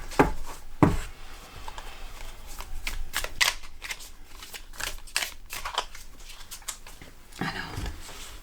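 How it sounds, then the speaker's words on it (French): Tarot cards being shuffled by hand, soft irregular riffling and slapping bursts with a few sharper knocks, close and fairly quiet. "il y a toujours plein de cartes qui tombent, donc je vais les étaler par la suite"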